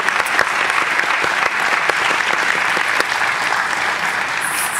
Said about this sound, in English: I would like just to give a round of applause to Miss Nicole